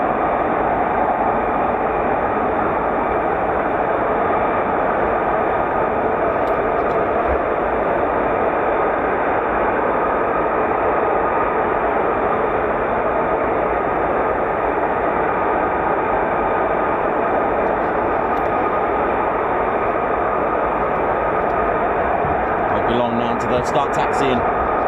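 An F-35B stealth fighter taxiing at a UK air base, a steady, loud, unbroken jet roar and hiss that holds level throughout with no clear breaks.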